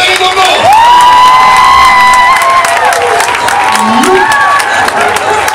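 Loud crowd cheering and applause for Valérie Dombo at a comedy show, dense clapping under high whoops and shouted voices, sustained throughout without a break.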